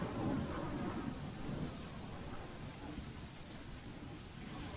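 Heavy rain pours down in a dense, constant roar, with low rumbling thunder underneath.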